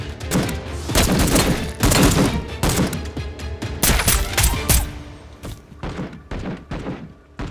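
Rapid bursts of gunfire in a Turkish TV action drama, with loud volleys and heavy thuds crowding one another for several seconds before thinning into scattered shots.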